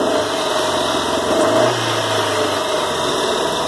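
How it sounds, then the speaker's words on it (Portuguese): A car engine misfiring on one cylinder from a loose spark plug wire runs with a steady, rough, uneven drone close up, loud and continuous without talk. "A impressão é de que está só com o cilindro falhando, porque está com o cabo de vela solto."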